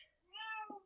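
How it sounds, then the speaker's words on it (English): A single short cat meow, faint and distant, plainly heard in a quiet room during a podcast conversation. "oh, that's my cat, sorry."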